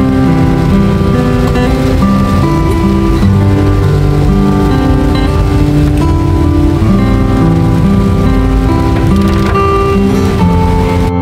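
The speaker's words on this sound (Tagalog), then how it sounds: "Yan o, grabe ang ulan." Heavy rain pours steadily and loudly, a dense continuous wash with no talk over it.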